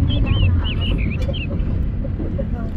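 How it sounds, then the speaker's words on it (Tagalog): A chicken clucks and calls in short chirpy bursts, moderately distant, over steady outdoor background noise. "may manok sa kapitbahay"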